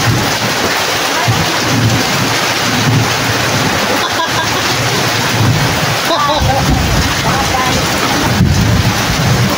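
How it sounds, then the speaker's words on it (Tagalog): Heavy rain pours down in a loud, unbroken roar, with low rumbles rolling underneath. "Lakas ng ulan eh"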